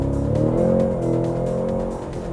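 The V8 engine of a 2022 Cadillac CT5-V Blackwing rumbles steadily nearby, a deep, throaty, low burbling drone with slight swells in revs and no voices.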